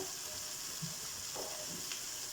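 Onions sizzle and fry in a pan with kabsa spices, cumin and turmeric, giving a steady close hiss with a few soft stirring scrapes.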